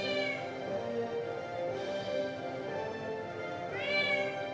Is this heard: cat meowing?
yes